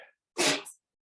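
A single loud, sharp sneeze bursts out close by in a quiet room during a yoga class, preceded by a faint brief sound and followed by silence.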